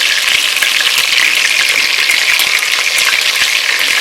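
Turkey gizzards frying in hot oil, a loud, dense, continuous bubbling sizzle heard up close and alone, with no talking.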